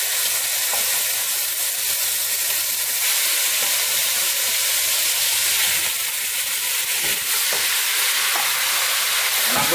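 Seasoned pork hitting hot oil and melted sugar in a pot for Caribbean stewed pork sizzles loudly and steadily, a dense hissing fry with scattered pops and crackles throughout.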